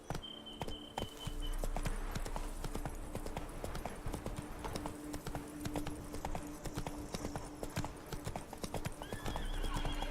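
Roach the horse galloping in The Witcher 3: Blood and Wine, with rapid rhythmic hoofbeats pounding steadily and a neigh or whinny breaking through near the start.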